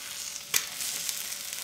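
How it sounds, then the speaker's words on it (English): Eggs fry in leftover avocado oil in a pan, giving a soft continuous sizzle with one brief louder crackle near the start and no speech. "I'm just frying it in the leftover avocado oil."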